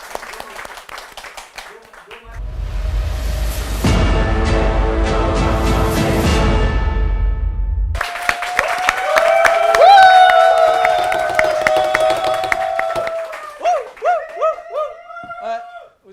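Comedy show audience bursting into applause and cheering, a dense wash of clapping building for several seconds before giving way to loud voices and laughter.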